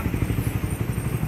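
A cold motorcycle engine with a rattling, clattering top end, heard up close as a brief, steady run of rapid mechanical ticking over a low idling throb.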